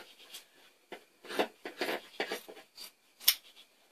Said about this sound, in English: So we're going to cut this one off